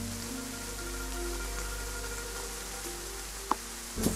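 Rain falling in the mobile game Promise of Lingyun, a soft, even patter under a low steady hum, joined by faint tonal game sounds and a couple of brief clicks near the end.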